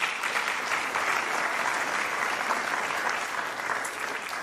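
A large audience at a Telling Tales 2023 gathering claps steadily and densely, a sustained wash of applause that stays loud and even throughout with no voices standing out.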